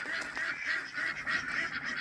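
Domestic ducks on a small backyard farm, a mallard and a black runner duck, give a steady run of nasal honking calls over two seconds, fairly close and moderately loud with no talking.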